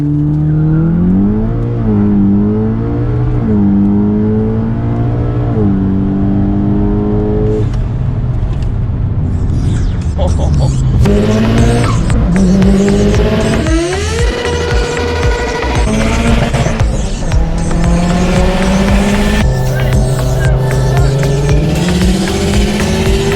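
A Subaru STI with a built engine launches hard from launch control and pulls through the gears, a loud close engine note climbing in pitch, dropping at each shift and climbing again, with no voices.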